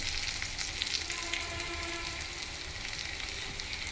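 Washed curry leaves drop into hot oil for an Andhra-style ladies finger fry, giving a continuous bright, hissing sizzle that stays fairly even and moderately close throughout.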